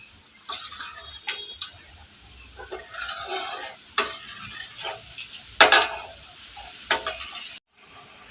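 Cooked palada being stirred into thickened milk for Kerala-style ada pradhaman payasam, heard as scattered spoon taps, scrapes and light bubbling clicks at irregular intervals, fairly quiet with a few sharper knocks.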